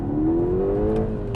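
A Mk2 SEAT Leon Cupra R with 265 horsepower accelerating hard, its engine note climbing steadily, loud and close from inside the car.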